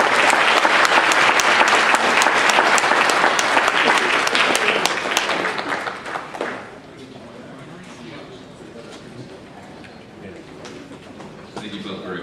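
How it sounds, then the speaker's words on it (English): An audience at a seniors' forum in Maryland applauds two speakers, a loud sustained roar of clapping that fills the room for about six seconds before fading to a low murmur with a few stray claps. "Let's give a round of applause for these 2"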